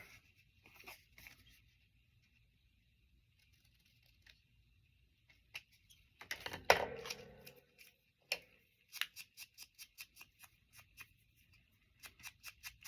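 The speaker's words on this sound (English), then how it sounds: "we're going to fussy cut that out" Scissors fussy cutting a small paper word phrase, a series of quiet close snips in bursts with rustling paper between them, against near silence.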